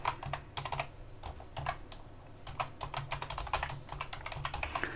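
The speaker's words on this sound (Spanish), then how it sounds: "Aquí simplemente continúo colocando mi contraseña." Quiet, close clicks of a password being typed on a computer keyboard, rapid irregular keystrokes in short bursts over a low background hum.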